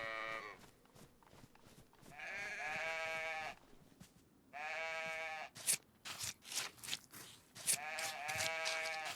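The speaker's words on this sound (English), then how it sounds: "Sheep are modeled pretty accurately." Sheep in the survival game DayZ bleat repeatedly at close range, several drawn-out harmonic calls broken by pauses and soft clattering movement sounds.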